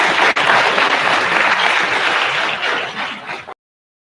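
Applause at a conference luncheon honoring a dissertation award winner, a thick burst of clapping from the seated audience that runs steadily for about three and a half seconds and then cuts off abruptly.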